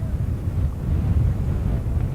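Strong wind blows at an outdoor high school baseball game, a steady low buffeting rumble against the microphone with no voices over it.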